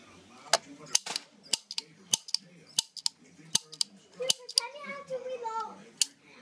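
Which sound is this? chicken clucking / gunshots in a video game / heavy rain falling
gunshots in a video game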